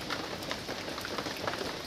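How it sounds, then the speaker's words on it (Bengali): Steady rain falls on surfaces outdoors, a continuous even hiss with scattered drop patters, moderately loud and unbroken by voices. "এখনো বৃষ্টি পড়ছে"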